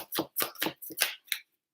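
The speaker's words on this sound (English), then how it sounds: "Oh my gosh, if I could shuffle these cards." Tarot cards are shuffled by hand in about six quick, crisp riffling bursts, each separated by brief silence, close and fairly quiet.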